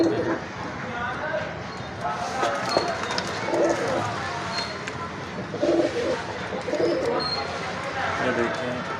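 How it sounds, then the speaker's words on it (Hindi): Pigeons coo softly in repeated low calls, with wing flutters and other birds mixed into a busy background. "ये देखेंगे माशाल्लाह ये सारे कबूतर जो है वो हैं"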